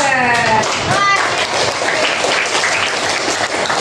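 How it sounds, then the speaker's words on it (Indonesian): A class of students applauds together in a classroom lesson, a dense, steady burst of clapping that runs the whole time, with voices calling out over the start. "Tadi tepuk tangan juga buat Teh Floris ya"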